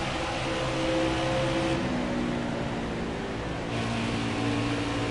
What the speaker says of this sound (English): hear in terms of the engine and the RPMs that times are definitely slowing down